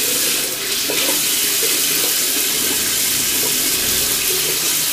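Water runs steadily from a tap, a loud constant hiss and splatter throughout while eyeliner is rinsed off with makeup remover at a sink, close to the microphone.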